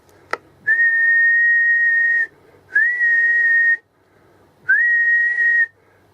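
Three sustained whistled tones into a microphone on an Alan 9001 radio, each held for about a second or more with a short upward slide at the start, separated by brief pauses.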